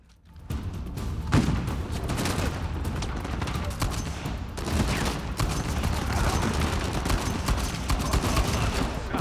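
Sustained gunfire and explosions in the video game Uncharted 4: A Thief's End, played in a heavy-weapons Rambo mode, a loud continuous barrage of rapid shots and booms lasting about nine seconds.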